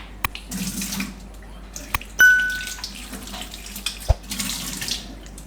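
Water runs and splashes in a sink as bitter gourds are rinsed in a little salted water, with a few light knocks and a brief ding.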